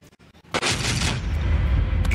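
Low-noise pet-friendly fireworks go off: several faint pops come first, then one loud burst followed by a sustained, crackling rumble.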